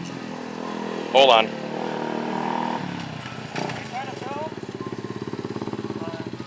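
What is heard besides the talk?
Kawasaki Mojave 250 ATV engine idling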